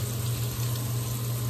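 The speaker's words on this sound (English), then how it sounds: "let me just turn on the water" A bathroom tap runs in a steady, loud, continuous rush of water close by, with no voices.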